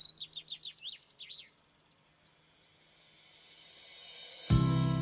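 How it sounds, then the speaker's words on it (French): Birds sing in a forest in the Vallée de Joux, a high plateau in Switzerland, with a quick run of repeated chirping phrases close by, then a quiet hush as a soft rising wash of sound builds. "les arbres autant que les oiseaux diffusent leur mélodie"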